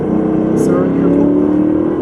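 A tuned 2020 Ford Super Duty Tremor with the 7.3L Godzilla V8 pulls hard in third gear, a loud, steady engine drone rising in pitch, heard from inside the cab with some talk.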